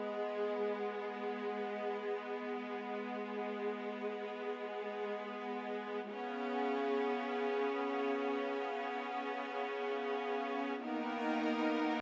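Session strings hold sustained chords from a thinned-out progression, warm and smooth, shifting to new chords twice with clean changes and no talking.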